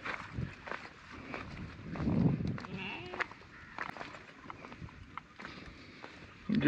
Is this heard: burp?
no